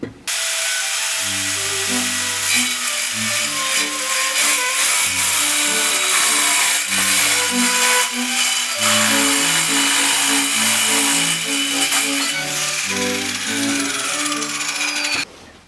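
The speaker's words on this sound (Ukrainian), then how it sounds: "Без проблем ріже, тільки в мене маленький кусочок, незручно було її тримати в руках" A Vitals 1271TG mini saw cuts through material with a continuous harsh, high grinding whine that stops abruptly near the end, while a melodic background tune plays throughout.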